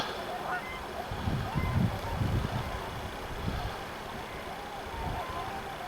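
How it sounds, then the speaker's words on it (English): Swans lingering late in the season call from a short distance with a series of low honking cries, several overlapping in the middle, over steady outdoor background noise. "Yeah, you can hear the swans."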